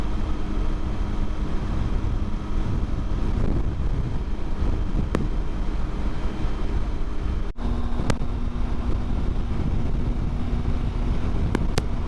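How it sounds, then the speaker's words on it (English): Steady, roaring 20 to 30 mph headwind buffets the microphone while riding a motorcycle across a high plateau, a loud continuous rush with an engine drone underneath and no talking. "we're back in the 20 to 30 mile per hour wind"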